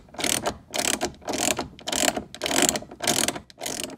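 A ratchet wrench loosens 13 mm bolts on a Jeep Wrangler JKU during a roll cage install, giving about seven steady bursts of rapid clicking, close and loud, each followed by a short pause.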